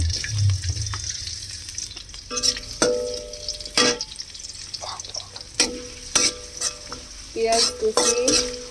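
Chopped onion hits hot soybean oil in a wok with a close, crackling sizzle, followed by sharp metallic scrapes and clanks of stirring at irregular intervals. A brief splash of running water is heard, and nobody speaks.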